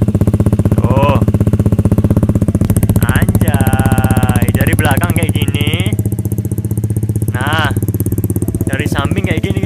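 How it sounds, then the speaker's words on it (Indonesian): A Honda Beat Street scooter with a custom Respeed exhaust idles close up with a loud, steady, throbbing burble, while someone talks excitedly over it in short bursts. "Jadi kayak gini suara knalpotnya tuh."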